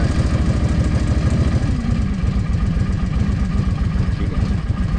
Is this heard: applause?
no